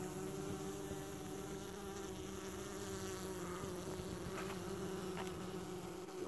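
A honeybee colony buzzes steadily at the hive while bees fan, a dense, continuous hum of many wings at close range, quiet but unbroken, with no speech.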